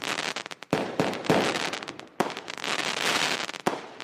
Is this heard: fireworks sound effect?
yes